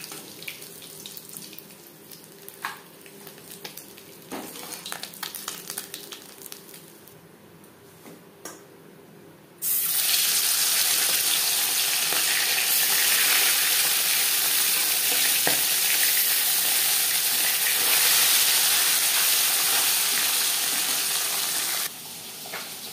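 Fish fried in oil in batches: a quieter stretch of faint crackle and clinks gives way to a loud, sustained sizzle close by that runs for several seconds before easing off at the end.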